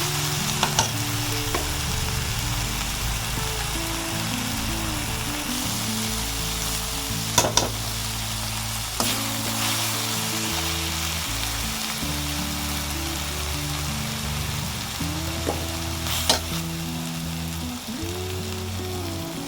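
Onions sauté in a pan with steady sizzling and frying, continuous and close, with occasional clinks of a utensil stirring through them.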